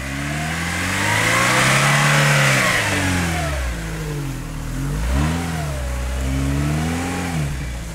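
A car engine revs hard under acceleration in second gear, pitch climbing, dipping, then surging again in smooth mid-range waves, close and loud, with no voices.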